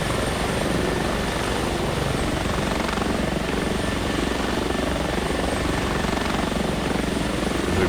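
An H145 helicopter in flight in the X-Plane 11 simulator gives a steady, loud rotor and turbine drone that holds unbroken throughout, with no talk over it.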